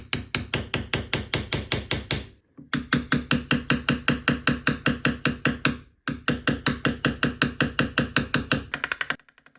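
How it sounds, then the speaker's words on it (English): Rapid, regular mechanical hammering in three long bursts, close and loud, with brief pauses between runs, as a hammer pushes a metal bezel around a turquoise bangle bracelet. "So I really enjoy to push it with a hammer."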